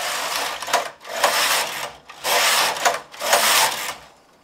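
A knitting machine carriage sweeps back and forth across the needle bed knitting four rows of a bunny, four close whooshing, rattling passes of roughly equal length with brief pauses between them and no talking.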